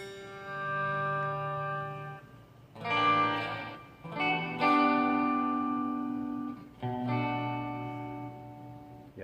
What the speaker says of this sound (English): Yeah, it's a reverb with a noise gate.